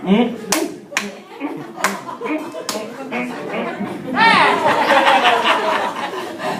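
A few sharp hand claps or slaps, as in a clapping game, ring out at intervals amid speech in a church setting, followed by a burst of laughter and lively chatter.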